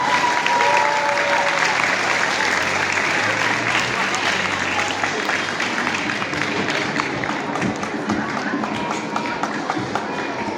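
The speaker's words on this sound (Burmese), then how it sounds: "ကျွန်တော်နောက်ဆုံးတကားတော့အားလုံးလက်ခုပ်ကိုအားရပါတီးပြီးတော့ဂုဏ်ပြုပေးကြရအောင်" A large audience at a youth Bible-verse recitation competition breaks into sustained, dense applause, many hands clapping steadily and loudly for the whole stretch without pause.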